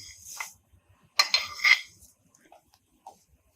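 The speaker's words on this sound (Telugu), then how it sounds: "సేమియా పిల్లలు వేసేసుకొని శుభ్రంగా పాలల్లో కలిసే విధంగా కలుపుకోవాలి." Vermicelli is stirred into milk in a pot with a few short clinks and scrapes of a spoon against metal. A brief burst of louder clatter sits in the middle, with quiet gaps between.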